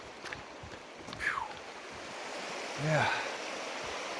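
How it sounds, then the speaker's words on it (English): Water of the Elwha River, a creek crossed on a backpacking route in Olympic National Park, rushes in a steady broadband wash, with a brief voice over it. "we've got a creek that we have to go across. This is the Elwha River"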